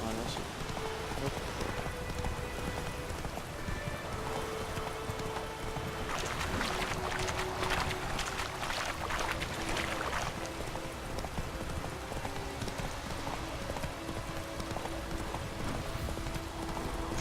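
Horse hooves clip-clop in a steady galloping rhythm in The Witcher 3 video game, loud and continuous, with a burst of rain-like noise in the middle and a low hum underneath.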